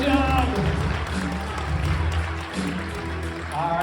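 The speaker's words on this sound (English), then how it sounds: "Give him a huge round of applause." A middle school audience at a comedy hypnosis show applauds a volunteer, sustained crowd clapping running beneath a talking voice and steady low background noise.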